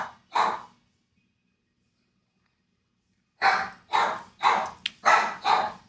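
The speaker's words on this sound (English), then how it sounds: "The dogs are warning us that there is a delivery at the door" Dogs barking indoors at a delivery at the door: one sharp bark near the start, a pause of silence, then a rapid run of five loud barks close by.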